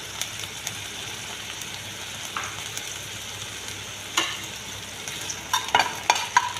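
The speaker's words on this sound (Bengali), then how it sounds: "একটা প্যানের মধ্যে আমি সরষে তেল গরম করে লইছি, এর মধ্যে দিলাইলাম পেঁয়াজ কুচি আর 2টা কাঁচা লঙ্কা চিরিয়া দিলাম।" Chopped onion and split green chillies sizzle gently in hot mustard oil in a pan, a steady soft crackle with a few louder stirring scrapes toward the end.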